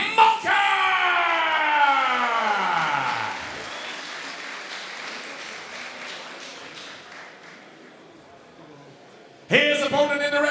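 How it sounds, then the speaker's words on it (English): A large crowd applauds and cheers loudly for a fighter's entrance at an MMA event, the roar fading over a few seconds, then a booming announcer-style voice cuts in at the end. "Ladies and gentlemen, your applause for Patryk Molka!"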